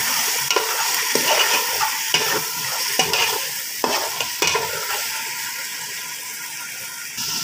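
Onions and tomatoes sizzle in a hot pan while a spoon stirs and scrapes against the metal in irregular strokes, close and steady, with no voices.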